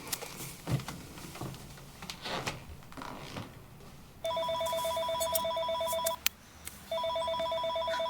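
A home telephone rings in clear repeated electronic bursts, two long rings separated by a short pause, loud and close, with no one speaking over it.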